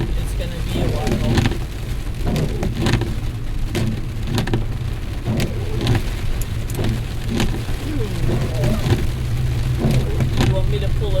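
Heavy rain pours onto a car driving along MD Route 67 North in a lightning storm, a loud, dense, steady drumming on the roof and glass with road rumble underneath.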